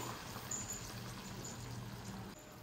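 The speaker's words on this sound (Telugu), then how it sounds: "కొంచెం వాటర్ యాడ్ చేస్తున్నా" Water poured into a pan of cooking brinjal with salt and turmeric, a soft, steady pour running for a few seconds, faint and close, with no talking.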